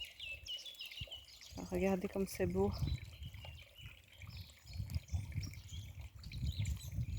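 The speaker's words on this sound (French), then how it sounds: "Le bruit de l'eau plus le chant des oiseaux, c'est absolument merveilleux." Water trickles steadily outdoors while birds chirp and sing above it, and a person speaks briefly near the start over the natural sounds.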